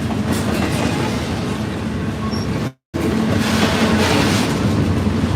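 A freight train carrying green Hub Group intermodal containers rolls past close by, a loud continuous rumble with clickety-clack of wheels over rail joints, interrupted by a brief dropout midway.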